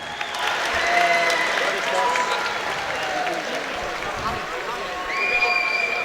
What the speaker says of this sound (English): a round of applause for your runner-up